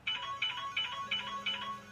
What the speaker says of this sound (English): now the phone's ringing and Louise has just stepped outside.